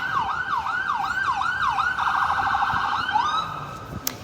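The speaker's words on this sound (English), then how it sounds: "just got an ambulance going by" An ambulance siren wails past on a Toronto downtown street, its rising and falling yelps repeating quickly, then shifting into a steadier warble, loud and close over constant traffic rumble.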